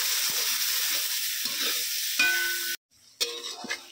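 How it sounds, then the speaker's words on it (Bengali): Pointed gourd being sautéed with turmeric and spices in a pan: a steady frying sizzle with scraping stirs for most of the clip, cut off briefly by a sudden silence and then resuming. "এবারে সব কিছু ভালো করে এই পটলের সঙ্গেই ভালো করে কষিয়ে নেব।"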